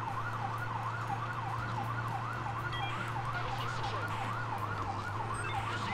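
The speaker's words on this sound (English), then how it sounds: "There's the sirens." A wailing police siren in the video game Police Simulator rises and falls steadily over a constant engine hum, sounding somewhat distant and continuous.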